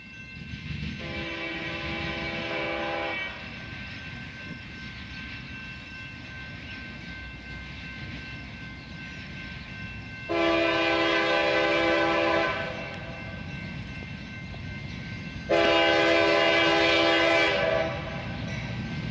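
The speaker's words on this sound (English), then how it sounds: "we'd hear a K5L in the distance." A Norfolk Southern train sounds its K5L horn from a distance in three separate blasts, a long one followed after a pause by two more, each louder than the last, over low outdoor rumble.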